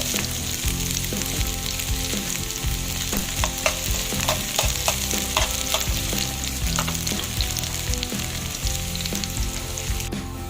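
Garlic and onion sizzle steadily in a hot pan, a dense continuous frying hiss with scattered utensil clicks and stirring scrapes throughout.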